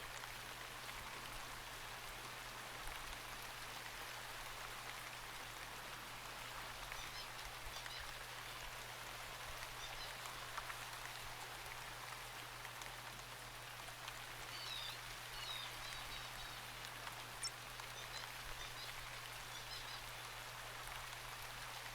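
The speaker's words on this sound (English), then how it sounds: "Just love the sound of the rain." Steady rain falling in the fantasy game Shroud of the Avatar, a dense, even hiss of drops continuing without pause throughout, with a constant low hum beneath and no voices.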